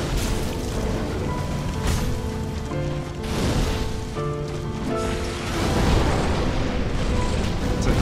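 A fire spell explodes in the video game Dark Souls during a battle: a series of booming, rumbling blasts layered with game music tones over a continuous roar.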